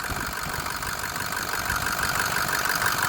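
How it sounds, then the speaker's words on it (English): A 2006 Ford F250 King Ranch FX4 Powerstroke diesel engine idles with a steady, even rumble, close and unbroken. "Nice smooth idle. Sounds healthy."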